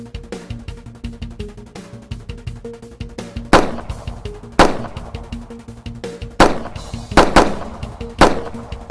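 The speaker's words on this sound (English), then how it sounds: "They trade numerous rounds as the bad guy runs out of the store." Several sharp handgun shots ring out loud and close, irregularly spaced about a second apart, exchanged between a store owner and an armed robber fleeing a shop, over a steady background hum.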